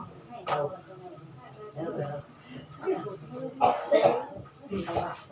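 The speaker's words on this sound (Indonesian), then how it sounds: "Nah, banyak yang batuk-batuk nih" Several people cough in scattered bursts, some close and some farther off, amid murmuring voices in a room.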